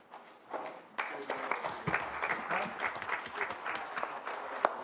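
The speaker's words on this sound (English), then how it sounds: "would you please stand so we can give you a round of applause?" Audience applause at a Cherokee tribal council meeting honoring a Miss Cherokee titleholder: steady clapping from a moderately sized indoor crowd, starting up after a brief pause and holding throughout, with a few sharper individual claps near the end.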